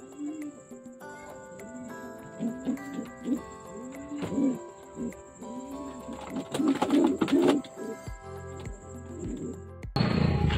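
Two racing pigeons, Choco and Mucho, coo in repeated soft, rolling phrases close by, with a faint steady high whine behind them and a few dull thumps and rustles near the end.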